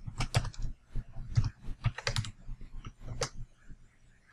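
Someone types a password on a computer keyboard, a quick irregular run of close, crisp key clicks with short pauses between bursts.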